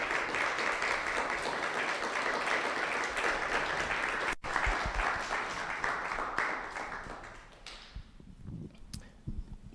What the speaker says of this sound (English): Y'all give Brantley a round of applause